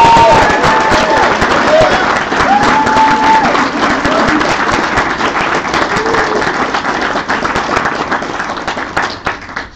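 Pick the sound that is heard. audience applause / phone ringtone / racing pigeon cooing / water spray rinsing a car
audience applause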